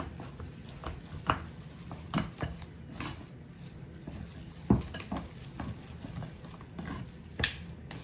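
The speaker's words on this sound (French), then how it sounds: "Je vais la pétrir pendant 2 minutes" Soft, supple cereal bread dough kneaded by hand, giving a run of quiet squishing slaps and thuds at uneven intervals, close by with no talking.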